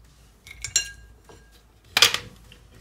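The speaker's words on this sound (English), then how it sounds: "So I'm just adding my ice to my blender." Ice cubes drop into a blender jar for a homemade caramel Frappuccino, giving a few sharp clinks and then one louder clattering burst, close and alone.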